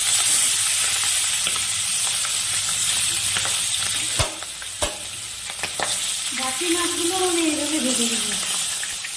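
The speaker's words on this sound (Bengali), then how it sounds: "আমার দুই পাশ লাল করে ভাজা হয়ে গেছে" Bhetki fish pieces fry in hot oil in a pan, a loud close sizzle with a few sharp clatters as the fish is turned and lifted; faint talk sits low underneath.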